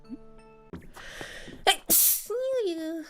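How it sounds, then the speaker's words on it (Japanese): A single loud, sharp sneeze from a Japanese VTuber, preceded by a brief sharp intake and followed by a drawn-out vocal sound, with some talk just before. "あ、くしゃみ出そう。"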